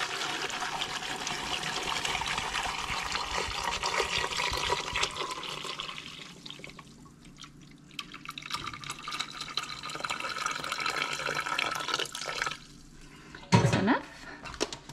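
Water pours steadily into an electric canner holding five jars, a continuous splashing fill that thins toward a trickle midway, then swells again before a brief loud clunk near the end.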